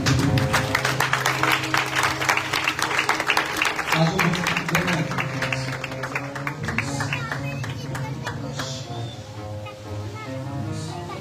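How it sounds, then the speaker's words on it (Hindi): A church congregation gives loud applause during an anointing session. Dense clapping runs throughout under music and a voice, and it eases slightly toward the end. "जोरदार तालियां बजा के"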